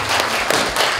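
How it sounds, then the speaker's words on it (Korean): Applause from guests at a 60th-birthday reunion party of elementary school classmates in a Daegu hotel, a steady dense wash of clapping from a full room. "큰 박수 받으십시오."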